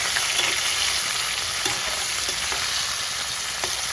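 Chopped onion fries in oil in a pan, with a dense, even sizzle running throughout and soft scraping taps as it is stirred, close and fairly loud with no voices.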